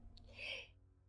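A single person's sneeze, a short sharp burst with a brief intake just before it, close and moderately loud against a quiet indoor background.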